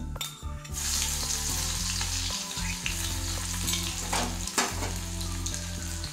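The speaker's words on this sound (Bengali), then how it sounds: "রসুনটাও একটু ভাজা ভাজা হয়ে গেছে" Garlic and nigella seeds frying in hot mustard oil in a wok, a dense continuous sizzle close up, with a few stirring scrapes and no talk.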